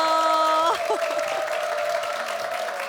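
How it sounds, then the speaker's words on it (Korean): A television talk-show audience applauds as a guest walks on, a bright sustained musical chord cutting off before a moderate, even spread of clapping carries on to the end. "자, 큰 박수로 모시겠습니다."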